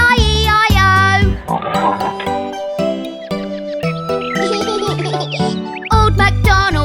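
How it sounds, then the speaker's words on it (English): Cartoon pigs oink in bursts over a bright, bouncy Old MacDonald nursery-rhyme tune with jingly chimes. The oinks are loud and mixed in with the music. "And on his farm he had some pigs"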